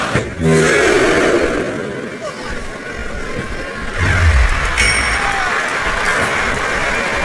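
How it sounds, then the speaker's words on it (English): Video-game crowd noise at a WWE SmackDown vs. Raw 2007 wrestling match, a loud continuous arena roar of massed voices that swells midway, with no clear commentary over it. "I'm not sure I agree with what the crowd is chanting, JR"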